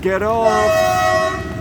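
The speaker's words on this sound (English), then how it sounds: "Oops, sorry, the train is just going through." A passing train sounds a loud, sustained horn in rural Costa Rica's Central Valley, a long steady blast close by, with a person briefly speaking over the start.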